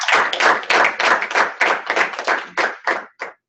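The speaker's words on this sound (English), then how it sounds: "We can give a warm round of applause and a thank you to Bruce Smith." A small audience applauds Hall of Famer Bruce Smith, close and loud bursts of clapping that come in uneven waves and thin out toward the end before stopping.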